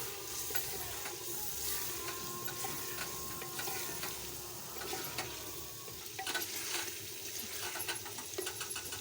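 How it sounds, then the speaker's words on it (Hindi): Cumin seeds roast in a pan on a low flame, a soft continuous sizzle with light stirring scrapes and small ticks, fairly quiet and steady with no talking. "इसको हल्की आंच पर हल्का सा भूनेंगे, इसी तरह भुनेंगे। इसमें थोड़ा सा जीरा ऐड करेंगे"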